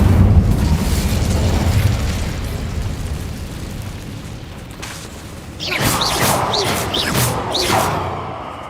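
Casting the Incendio fire spell in Hogwarts Legacy produces a rumbling low burst that fades, then a second bright whooshing flare of flame with crackling bursts, loud and close.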